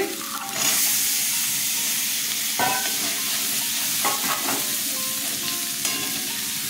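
Chickpeas tipped into a pan of frying spices with ground cumin and coriander, a steady close sizzle broken by a few sharp scrapes and clinks of a spoon stirring, with no talk.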